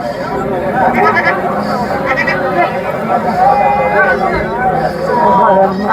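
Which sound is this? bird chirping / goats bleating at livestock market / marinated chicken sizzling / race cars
goats bleating at livestock market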